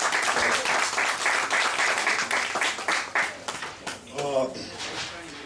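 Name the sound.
audience applause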